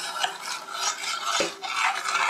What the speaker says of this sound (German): Wenn der Kirschsaft kocht, nehmt ihr eure angerührte Speisestärke und rührt sie unter.